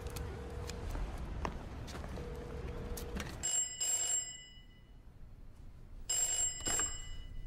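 Old-style telephone ringing in two bright bursts over street traffic, with a short gap of quiet between the rings.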